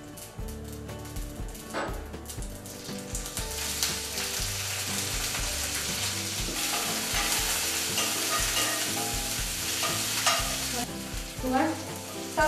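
Onion goes into hot oil with frying curry leaves and bursts into a loud, steady sizzle that builds and holds, with occasional clinks of stirring.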